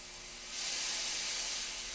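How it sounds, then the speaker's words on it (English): Steam hisses loudly and steadily from a 1936 hat blocking machine clamped shut on a hat body. The hiss is close, broadband and continuous, and it swells stronger about halfway through. "I'll give it a bit more steam."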